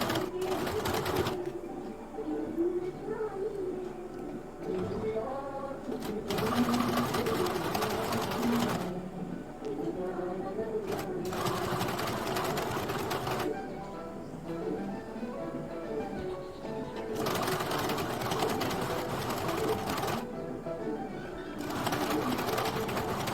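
A sewing machine stitches a double-folded blouse hem in repeated bursts of loud steady whirring separated by pauses, while a voice talks underneath and pigeons coo faintly in the background.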